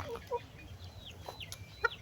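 Small chickens in a small farm pen give soft, brief clucks and chirps scattered over a quiet background, faint and slightly distant with a few short calls.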